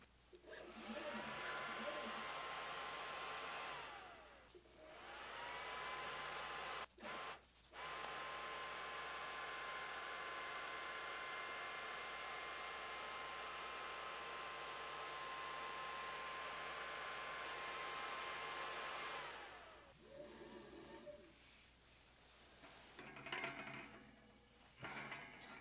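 An xTool D1 Pro laser cuts a 40 by 40 mm square into wood paneling over several passes, giving a steady high-pitched whir from its fan and motors with a sustained tone, stopping and restarting in brief gaps, no talking.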